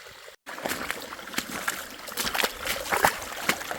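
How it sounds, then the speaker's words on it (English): Shallow stream water runs over a flooded hiking trail on the Appalachian Trail, heard up close as steady trickling and sloshing, with irregular splashes that fit footsteps wading through. "Is this a stream or a trail? Unfortunately, it's both."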